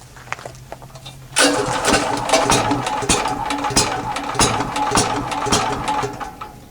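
A Champion generator engine starts after a valve cover gasket repair: faint clicks, then a sudden loud catch into a steady, rough running chug close by, with no talk.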